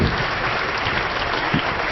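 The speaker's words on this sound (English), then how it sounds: "Big round of applause for Reed." Steady round of applause from an audience at a UFC 145 fan Q&A, welcoming Reed Harris, the UFC's Vice President of Community Relations; dense, continuous clapping that stays even throughout.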